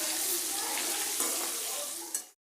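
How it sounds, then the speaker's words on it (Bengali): Potatoes frying in a pan with salt and turmeric for biryani: a steady, close sizzle with soft stirring scrapes that runs for about two seconds, then stops abruptly. "দিয়ে ভালো করে নেড়ে নেড়ে ভেজে নিতে হবে।"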